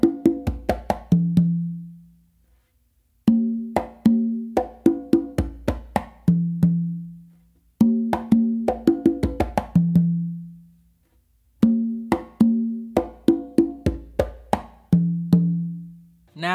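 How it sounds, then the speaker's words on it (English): A Georgie Padilla tumbao played on two congas, repeating in four phrases of quick slaps and open tones that end on a ringing low tumba note. The drumming is close, clear and steady, with no talk. "those two opens should sound kind of like what you're doing in a normal tumbao when you're playing two congas"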